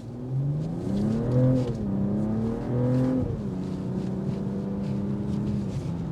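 A 2025 BMW M340i's B58 engine accelerates with a smooth, steady drone that climbs in pitch, dips, and then holds an even tone from inside the car.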